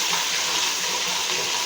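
Ginger-garlic paste frying in hot oil gives a steady, loud, close hiss with no breaks, a continuous dense sizzle throughout.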